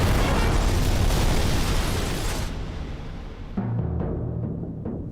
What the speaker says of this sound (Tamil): அதான் விட்டேன் ஒரு தீபாவளி ராக்கெட்.